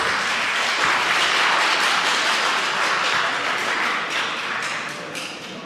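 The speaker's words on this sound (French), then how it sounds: "Je voudrais simplement rappeler au public qu'il n'est pas permis d'applaudir." The public in a parliament chamber breaks into loud, sustained applause, a thick crowd of hand claps that swells and then eases off slightly toward the end, with no talking.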